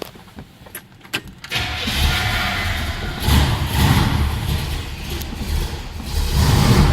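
A 1968 Chevrolet Bel Air with programmable fuel injection cranks with a few clicks, catches, and settles into a steady idle. A brief rise in revs follows, heard close from inside the car with no talking.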